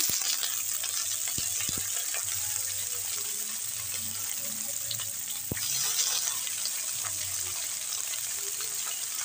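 Steady frying hiss and crackle from cabbage in a pan, with occasional clinks of a utensil stirring, continuous and moderately close.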